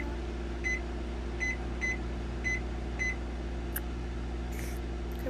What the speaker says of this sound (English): we're gonna let that sit in the microwave for a while